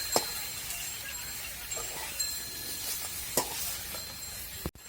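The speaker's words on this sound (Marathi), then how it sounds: "भरवा भेंड्या आपलं परतायचं पण चालू आहे" Stuffed okra coated in masala and red chilli powder sautés in oil in a pan, a faint steady sizzle broken by a few sparse clinks and scrapes of a spatula, ending with one sharp knock.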